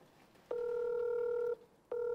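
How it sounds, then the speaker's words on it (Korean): A call placed on a Galaxy S10e rings back, a steady electronic tone lasting about a second, a pause, then the tone starting again, clear and moderately quiet. "바로 전화를 해보도록 하겠습니다."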